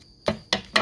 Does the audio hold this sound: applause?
no